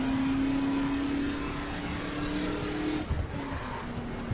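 A car cruises down a coastal road in the Florida Keys in the racing game The Crew, its engine a steady, close drone that holds even throughout, with a brief bump of road noise near the end.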